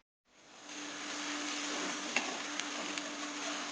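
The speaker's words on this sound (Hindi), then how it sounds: "3 टेबलस्पून उसमें ऑयल और 2 बड़े प्याज काट के डाल दिए हैं।" Two large chopped onions soften in three tablespoons of oil in a pan, a steady hissing sizzle that fades in and holds evenly, with a few faint clicks near the end and no voices.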